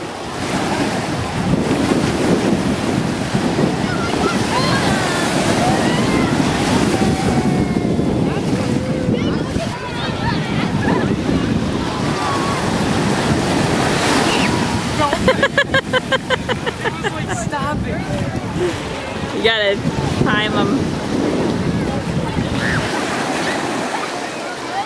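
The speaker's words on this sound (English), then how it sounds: "There's some waves coming." Ocean waves roll and break on the shore, a loud, continuous wash of surf with heavy wind buffeting the microphone and brief surges as each wave crashes.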